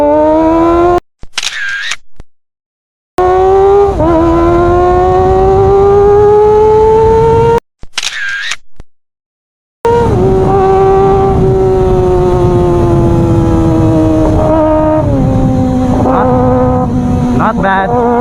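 Kawasaki ZX25R motorcycle exhaust revving hard through repeated upshifts during an acceleration run, a loud rising engine whine broken by brief gaps between gears.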